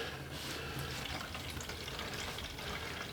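Water runs from a hose into a funnel to fill a tank. It makes a steady, close rushing and splashing sound with no voices.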